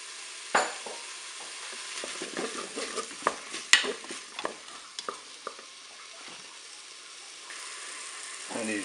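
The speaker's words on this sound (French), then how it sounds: "Je vais ajouter maintenant mes tomates cerises que j'ai coupées en deux." Halved cherry tomatoes and garlic stirred in a Cookeo multicooker pan, with scraping utensil strokes and clicks over a quiet sizzle, busiest in the first half and then settling to a faint fry.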